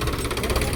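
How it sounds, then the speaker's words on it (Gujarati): A motorbike engine rumbles close by as the bike arrives, a brief, steady, mid-pitched running note with no talk over it. "આવ્યો આપણો બાઈક આવી ગયું"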